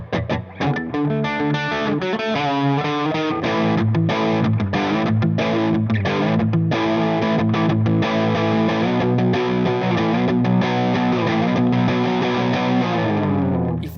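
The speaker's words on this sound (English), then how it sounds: "this amplifier will deliver some nice hard rock tones" Loud, distorted electric guitar through a Marshall Origin 20H amp, riffing continuously in a hard rock style, with crunchy chords and driving rhythm throughout.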